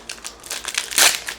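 A Magic: The Gathering Bloomburrow booster pack is torn open, a close, loud burst of foil crinkling and crumpling with a sharper rip near the end.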